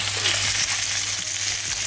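Chicken and pineapple pieces fry in a hot pan with a steady, close sizzle and crackle, a low kitchen hum running underneath throughout.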